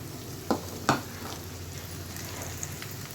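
Chicken frying in a pan at home, a soft continuous sizzle with two sharp stirring clinks early on, close and fairly quiet, no talking.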